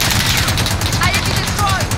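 A .50 caliber machine gun fires in Call of Duty Modern Warfare, a dense, continuous rattling burst that fills the whole moment, loud and close, with faint voices underneath.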